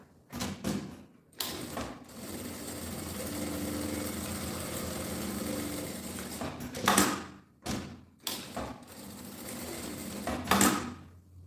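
Domestic sewing machine running in several bursts as it stitches a bag lining with printed fabric placed right side to right side, with a long steady run in the middle and shorter starts and stops, close and fairly loud.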